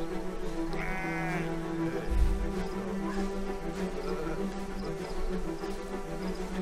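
A sheep bleats once in the video game Valiant Hearts, a short wavering cry over a droning ambient background with buzzing insects.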